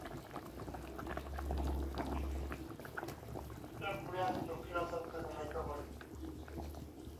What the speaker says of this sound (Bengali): দেখো ঝোলটা হলো ফুটে গেল পুরো।